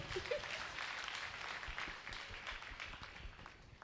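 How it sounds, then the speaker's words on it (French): A church congregation claps at a sermon, producing a steady wash of applause that lasts the whole stretch and tapers slightly toward the end, faint and somewhat distant. "Acclame pour toi-même."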